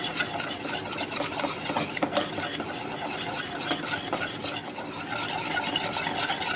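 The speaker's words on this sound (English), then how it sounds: "I'm going to whisk this for about 1 to 2 minutes" A whisk works a mixture in a pan for pizza sauce from scratch, giving a steady, continuous rasping scrape with no talk throughout.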